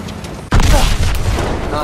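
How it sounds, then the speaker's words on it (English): A grenade explodes in the World War II shooter Call of Duty WWII: a sudden loud boom that hits hard after half a second of quieter battle noise, followed by a dense, sustained roar of gunfire and chaos. "Grenade! I'll throw it back."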